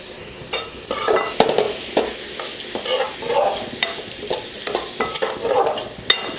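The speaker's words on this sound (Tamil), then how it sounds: "உப்பு போட்டு கலந்து விட்டுட்டு மூடி வச்சிடலாம்." Grated carrot with salt being stirred in a pan, a spoon scraping in irregular strokes over a soft sizzle, close and clear with no talking.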